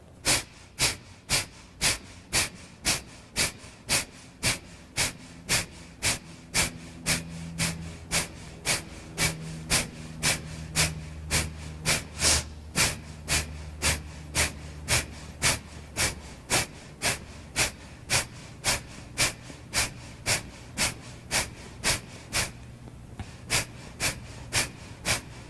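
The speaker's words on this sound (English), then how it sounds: "going to do 1 minute of breath of fire" Breath of fire, a rapid breathing exercise: sharp, forceful exhalations through the nose repeat at a fast, even rhythm of roughly two per second for the whole stretch, close and loud, with no talk.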